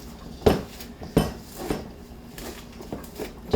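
A pastry blender cutting cold butter for pie crust, with a few sharp metallic clinks against a bowl at irregular intervals, close and fairly loud.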